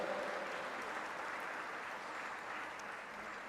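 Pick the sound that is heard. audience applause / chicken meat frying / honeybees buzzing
audience applause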